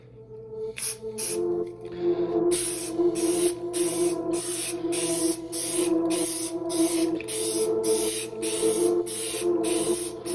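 Repeated short bursts of spray paint hiss as light coats go onto PlayStation 5 console panels, steady rhythmic passes close to the can, with a faint hum underneath and no talking.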